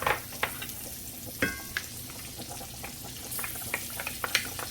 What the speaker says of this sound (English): we're gonna brown these onions with that bacon